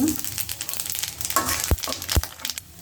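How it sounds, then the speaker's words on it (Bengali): Cumin seeds sizzle in hot oil left over from frying eggs, a close, crackling hiss with two sharp pops standing out during the short burst. "ডিম ভাজার তেলের মধ্যে আমি কটা জিরা দিয়ে দেবো"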